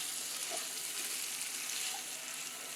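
Vegetable poha with potatoes and lemon juice frying in a pan, a soft, steady sizzle with faint stirring, quiet and without voices.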